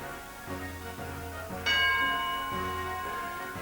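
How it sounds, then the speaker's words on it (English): A single bell chime rings out on a TV game show, a bright sustained tone with a long ringing decay that starts partway through, over a steady studio background. "There goes the bell."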